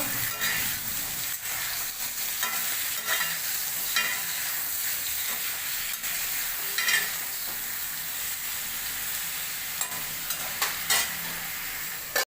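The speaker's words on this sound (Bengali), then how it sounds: "বেগুনটাকে এখন নেড়ে চেড়ে চাপা দিয়ে দিয়ে ভালো করে ভেজে নেব" Brinjal slices sizzle steadily in hot oil in a pan, with occasional scraping stirs and sharper crackles over a continuous frying hiss.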